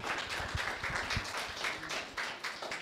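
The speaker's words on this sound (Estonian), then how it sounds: "Teeme Margile ühe sooja aplausi" A vocational school audience gives warm applause to welcome a speaker, lively clapping from many hands with a few distinct nearby claps standing out, steady throughout.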